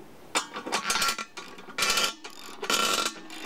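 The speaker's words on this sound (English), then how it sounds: "Get a wrench on it." Metal wrench work on a propane tank disposal machine, heard as bursts of clanking and ratcheting in several uneven spurts at close range.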